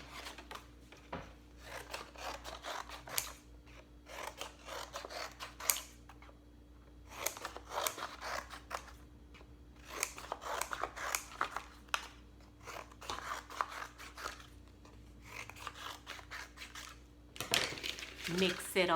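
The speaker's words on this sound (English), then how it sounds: "Now I'm going to take my puzzle and I'm going to cut it." Scissors cutting a jigsaw puzzle from a cereal box: rough, crunching cardboard cuts come in repeated bursts separated by short pauses, close and fairly quiet, with a faint steady hum underneath.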